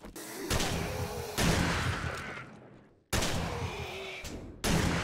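Gunfire in the survival video game 7 Days to Die, aimed at a feral biker zombie: two loud, sharp bursts with long ringing decay, the second cutting in abruptly after a brief gap, heard alone without talk.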